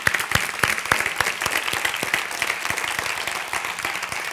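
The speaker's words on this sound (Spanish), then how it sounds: "simplemente aplaudir, por favor, a los expertos" Audience at a healthcare summit applauds the experts with sustained, fairly soft clapping, individual hand claps standing out from the steady patter.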